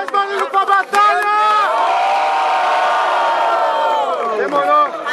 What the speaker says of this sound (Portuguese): Faz barulho pra batalha!